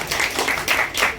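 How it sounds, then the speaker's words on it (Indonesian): An audience at a Jakarta regional council commission session gives panel speakers a short burst of clapping, moderately loud and brief. "Kita beri tepuk tangan Bapak Ibu para narasumber kita."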